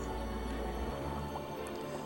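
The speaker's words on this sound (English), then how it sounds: "when the water flow stops, it just spits it right up like that" Water in the game Medievil gurgles and spits up from a closed tube once its flow stops, a faint, brief wet drip and burble against a low background hum.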